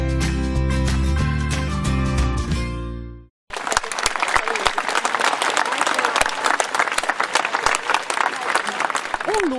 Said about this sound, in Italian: Corale applauso ha accolto l'immagine di Nostra Signora dei Miracoli al suo arrivo sul piazzale della chiesa parrocchiale di Cicagna